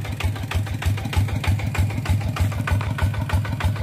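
Kubota tractor engine idling with motorcycle wheels fitted, a steady low diesel chug with even, regular pulses, close and loud with no talk over it.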